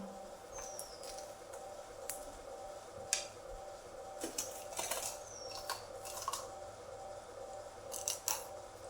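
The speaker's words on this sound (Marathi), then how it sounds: "आता आपण यामध्ये मिरची पण आणि शिमला मिरची ही पण कापून घ्यायची।" Chili and capsicum being cut for a sandwich, with quiet, irregular crisp snips and clicks over a low background hum and no talk.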